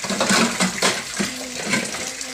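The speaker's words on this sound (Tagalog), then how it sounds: "Paki-off muna ang gripot para hindi magastos sa tubig." Tap water runs steadily into a sink while dishes are washed at home, a continuous splashing hiss with small clinks, close and fairly loud, with no talking.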